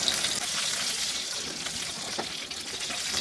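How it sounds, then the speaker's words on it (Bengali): Whole cumin seeds spluttering in hot oil in a frying pan, a steady soft crackle and hiss with faint scattered pops, continuous and close. "জিরাটা ফুটা শুরু করলেই আমি এর মধ্যে দিয়ে দিব"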